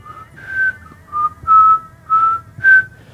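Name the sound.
person whistling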